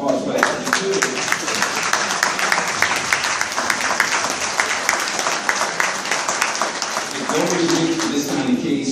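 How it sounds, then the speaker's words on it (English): An audience at a civil rights lawsuit announcement gives a round of applause for a lawyer. The clapping is steady and sustained throughout, with crisp individual claps in the crowd and some voices rising near the end. "let's give Joe Tucker a round of applause for that"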